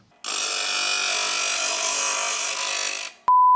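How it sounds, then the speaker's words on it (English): A bench grinder bites into a metal plate being shaped for custom mirrors on a first-generation Toyota Tacoma, a loud, steady rasping whine for about three seconds that cuts off abruptly, followed by a short electronic beep. "we have ourselves a little bench grinder here"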